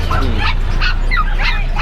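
A Labrador dog makes short, high whimpering yips and small barks, close and fairly loud, over a steady low background hum.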